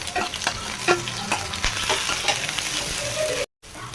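Green chili, ginger garlic paste and curry leaves fry in hot oil with a loud, continuous sizzle and scattered crackling pops, close by, with a brief cut near the end.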